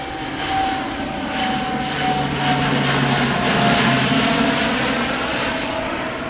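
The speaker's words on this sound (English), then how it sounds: "Another flight coming in." A fixed-wing airplane passes overhead on its landing approach into Tokyo, a steady broad engine roar that swells gently and holds throughout, fairly loud and continuous with no voices.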